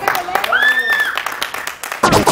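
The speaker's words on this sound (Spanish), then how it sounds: "un aplauso para este colegio" Crowd of students at a school clapping and cheering, steady applause with a whistle and shouted voices, swelling louder near the end.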